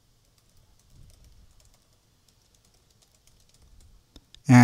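Code typed on a computer keyboard gives a string of faint, scattered key clicks in a quiet room, ending in a short, much louder burst.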